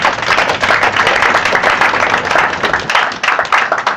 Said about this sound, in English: you deserve a round of applause for yourselves too